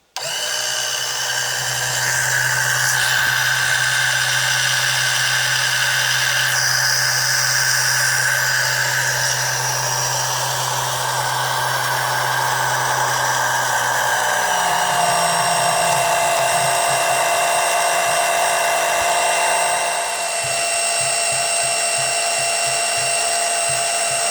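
Oil extraction pump pulling engine oil up through the dipstick tube of a V-drive boat engine, a loud, steady motorized whine and hum that runs without a break, with a slight shift in pitch partway through.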